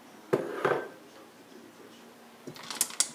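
Candy popcorn scraped out of a bowl, heard as a few short scraping clatters near the start, then a quieter gap and a brisker cluster of scrapes and knocks at the end.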